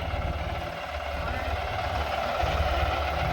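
A farm tractor engine runs steadily with a low, continuous drone, loud and close, its tone fairly even throughout with slight rises in level near the end.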